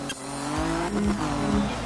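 Race car engine in a Group 4 racing game, loud revving with rising and falling pitch sweeps and a whining, whistling layer over it, continuous and close for under two seconds.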